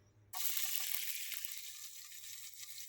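Onions hit hot oil in a home kitchen and start frying, an abrupt loud sizzle that settles into a steady close crackle with faint clicks of stirring.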